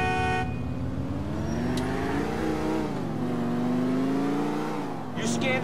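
A car is driven in the video game GTA IV, its engine droning and shifting pitch steadily throughout with a brief horn-like tone near the end.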